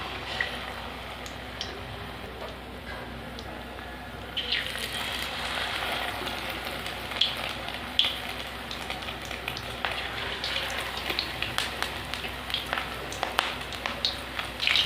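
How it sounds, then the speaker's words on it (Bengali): Green chilli chops coated in gram-flour batter drop into hot oil. A quiet bed of sound swells midway into a brighter, crackling sizzle, with scattered pops and spits that continue steadily to the end. "এগুলোকে আমি এইভাবে আবার বেসন ভালো করে মাখিয়ে তেলের ভিতর দিয়ে দেবো"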